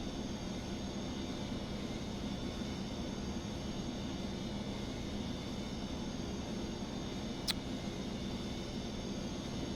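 Continuous, even drone of a modern airliner's engines in Microsoft Flight Simulator, a steady broadband roar with a faint whine that holds unchanged throughout, with one brief high click near the end.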